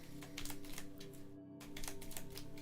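A deck of cards for the board game Undaunted Stalingrad is shuffled up close: quick, rapid clicking and riffling bursts with a brief pause midway, at a fairly soft level.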